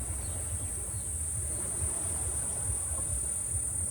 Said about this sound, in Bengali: দেখো কি সাংঘাতিক ঝিঝি পোকার আওয়াজটা কানে পুরো গা ধরিয়ে দিচ্ছে